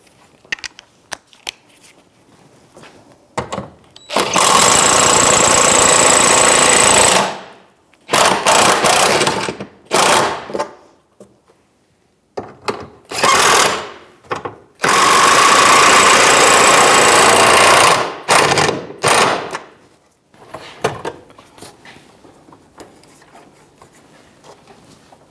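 A socket wrench tightening the gas tank strap nuts on a 1997-2006 Jeep Wrangler, heard as long loud bursts of rapid ratcheting or power-tool buzzing, separated by short pauses and lighter clicks.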